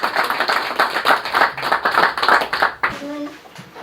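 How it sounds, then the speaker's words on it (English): An audience round of applause, clustered rhythmic clapping that fades out near the end, followed by a brief quiet moment with faint tonal sounds. "Let's give Bob a big round of applause."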